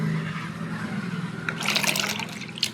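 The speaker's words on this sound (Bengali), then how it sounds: "এবার আমি সবজিগুলোকে সব ভালো করে ধুয়ে আর তুলে আলাদা করে নেব" Water sloshing and trickling as cut vegetables, salted and soaked beforehand, are washed by hand in a bowl, a steady close splashing that grows busier toward the end, with no talking.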